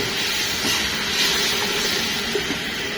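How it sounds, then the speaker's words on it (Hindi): Chicken hitting hot oil in a karahi, a steady broad sizzling hiss that stays even and fairly loud throughout, with faint crackles and no voices. "अब डालेंगे इसमें चिकन, तकरीबन हाफ के जी चिकन है।"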